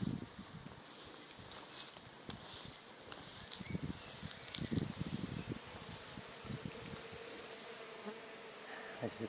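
Honeybees buzzing inside a poly nuc hive holding a split, a steady, close swarm-like hum with shifting wing drones and light rustling throughout, no voices.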